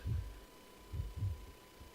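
A heartbeat in Resident Evil Zero, a pair of soft, deep thumps and then another pair in a slow steady rhythm over a faint hum, close and quiet with no speech.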